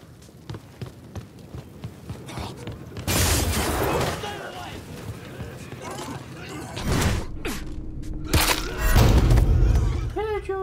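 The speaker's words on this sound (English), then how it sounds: "Wow, that was like such an awesome explosion." Explosion in the video game Mafia 3 during a boxing mission, a loud sudden boom with crackling debris and sustained rumble, followed by further bursts amid game noise.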